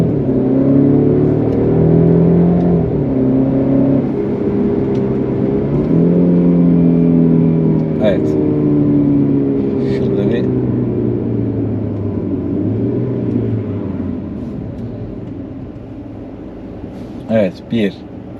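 A Mercedes C200 4Matic accelerates hard, its engine rising in a steady, loud rumbling drone heard from inside the cabin, with occasional clicks and knocks near the end.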